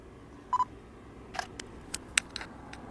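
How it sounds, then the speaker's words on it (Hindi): Nikon D7500 DSLR with an 85mm lens firing its shutter outdoors at 1/1000 speed: a sharp mechanical click near the mic, followed by a few fainter clicks and ticks, with no talking. "अब दोस्तों फ़ोटो क्लिक करते"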